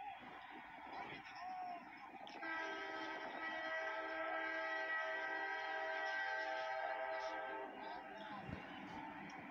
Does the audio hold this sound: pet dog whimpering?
no